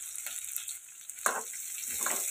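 Green chillies and chopped onions fry in a pan for a ridge gourd and chana dal curry, giving a steady hiss of sizzling with bursts of crackle as the pieces are stirred, close up and without talk.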